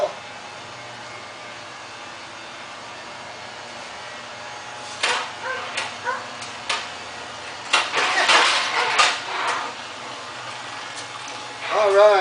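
A mini chopper motorcycle engine sputters through several attempts before catching and running, the revs rising and falling in bursts, loud and close, while people talk over it.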